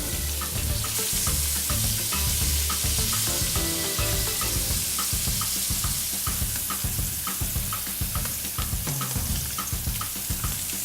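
Scallops sear in salted butter in a hot pan, giving a loud, dense, crackling sizzle that runs steadily throughout with small spattering pops and no voices.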